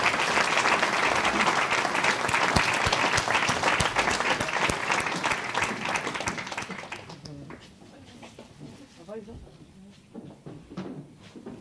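Applause at a municipal New Year wishes ceremony in Nilvange rolls on strongly for several seconds before thinning into scattered claps and room noise.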